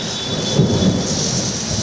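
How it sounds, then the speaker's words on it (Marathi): A sudden downpour falls over a city under thunder, heard from an office. The rain is a dense, steady hiss with low rumbling thunder rolling beneath it, and no voices. "ढगाळ वातावरण आणि अचानक विजेच्या कळकळामध्ये आपण बघू शकता सिडूनच्या कार्यालयामधून हे थेट पावसाचे दृश्य"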